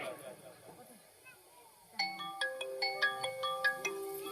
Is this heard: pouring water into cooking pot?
no